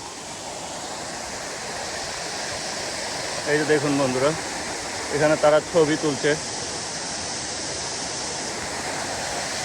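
A waterfall in Yangzhou city gives a constant broadband rush throughout, with someone talking over it in two short bursts midway.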